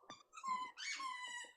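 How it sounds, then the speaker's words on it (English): A dog whimpering and squeaking in short high-pitched yelps, close and fairly quiet, with brief breathy pauses between the cries. "Hello, doggy."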